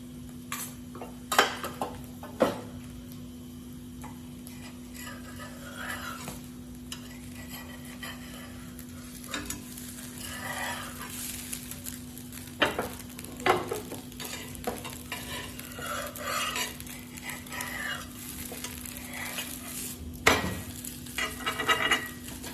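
A cabbage and masoor dal patty frying in oil in a pan, with a soft continuous sizzle, occasional scrapes and clinks of a utensil against the pan, and a steady low hum behind it.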